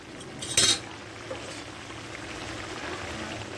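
A lid clinks down onto a pot of figs and tengra fish simmering in a spiced gravy. One bright metallic clatter comes early, followed by a faint tap and then a low, quiet bubbling hiss.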